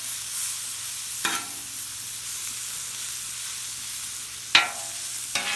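Mushrooms and onions on a Weber grill keep up a steady, hissing sizzle, broken by a few sharp scraping stirs of a utensil, close up with no voices.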